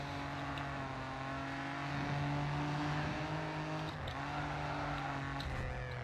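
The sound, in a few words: race car engine in Grid 2 video game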